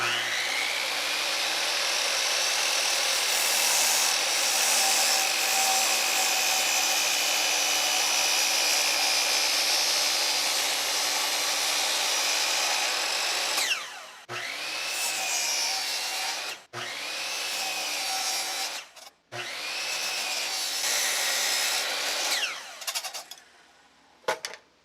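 Long continuous power-saw cut through a reclaimed wooden beam to trim rustic bench legs, a loud steady whine with rubbing wood grain, pausing briefly several times near the end before the blade spins down.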